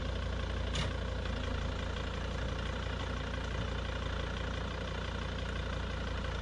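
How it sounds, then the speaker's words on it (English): A 1982 Bedford CF1 motorhome engine cranks and catches with a short burst, then settles into a steady, rumbling idle that stays loud and constant throughout with no voices. "The only bit I actually managed to record properly was starting the Bedford"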